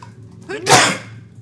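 A single sharp sneeze with a quick breathy intake just before it, bursting out loudly and then fading over quiet room tone.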